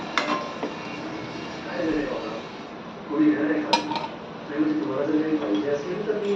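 Ground masala of roasted onion and coconut stirred into a cooking pot for a fresh cashew curry, with metal spoon scrapes and clinks against the pot under a person talking nearby.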